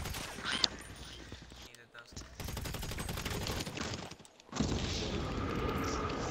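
Bursts of rapid gunfire in the video game GTA 5, dense volleys of shots filling most of the clip with two brief pauses, loud and close over a busy game mix.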